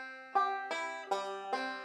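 Banjo picks out a short gospel-style ending, four bright plucked notes and chords struck about every 0.4 seconds, each ringing briefly before the next, played solo and close.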